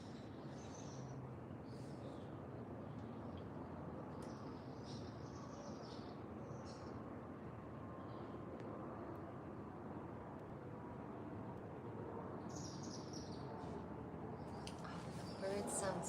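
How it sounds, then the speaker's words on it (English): Birds sing outdoors in the city, a few faint chirps and short trills scattered over steady low traffic rumble, with occasional quiet voices nearby. "Oh, the birds sound so beautiful."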